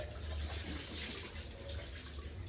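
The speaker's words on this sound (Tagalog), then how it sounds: "Ilagay ka na konti tubig." Water is poured into a pot while cooking pinakbet, a soft, steady splashing trickle close by that lasts a couple of seconds, with no talk.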